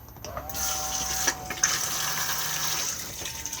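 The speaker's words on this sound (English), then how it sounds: "just slide the grey lever across and then push to flush" Cassette toilet flushing in an Elddis Avante 576 caravan: a steady rush of running water holds for about three seconds, with a brief tonal hum of a small pump underneath and a couple of soft knocks.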